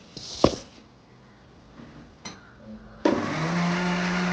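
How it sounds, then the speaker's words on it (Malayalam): An electric mixer grinder whirs loudly as it grinds roasted spices and coriander powder for a sea snail curry. A few clicks and taps of the jar come first, then the motor starts abruptly and runs steadily to the end. "നമുക്ക് വറുത്തെടുക്കുന്ന ഇതെല്ലാം ഒരു മിക്സിയുടെ ജാറിലോട്ട് തട്ടി കൊടുക്കണം"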